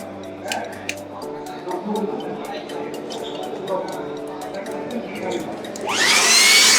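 A small electric air blower, the kind used to dry bikes and cars, hums steadily at first under a person talking. It then rises sharply to a loud, rushing whine near the end.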